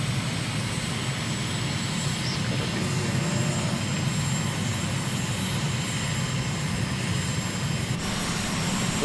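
An aircraft engine drones in Microsoft Flight Simulator as a steady, dense hum with a low rumble that stays constant and fairly loud throughout, with no voices.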